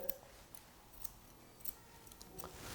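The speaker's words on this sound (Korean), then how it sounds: "똥꼬 같은 경우도 굉장히 위험하기 때문에 기계 대지 마시고 가위로 이렇게 조금씩 잘라 주시는데" Scissors snip in small careful cuts through a Pomeranian's fur near its rear, producing soft, close metallic clicks spaced irregularly over a quiet background, with no talking.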